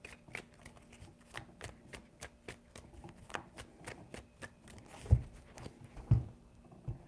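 Tarot cards are shuffled by hand close up, giving a quick run of crisp riffling bursts in a steady rhythm with two louder taps near the end, in a quiet room.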